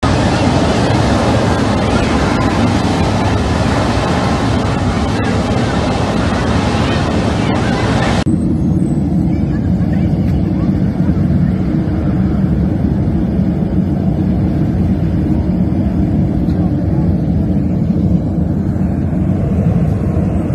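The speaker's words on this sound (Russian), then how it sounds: "Это может газ высокого давления быть" A ruptured main gas pipeline on a road to the airport in Yakutsk, venting high-pressure gas as a loud, continuous broadband roar that never lets up, heard from a distance with wind buffeting the microphone.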